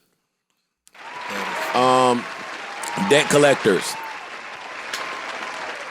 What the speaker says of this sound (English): Round of applause for Rod Guy.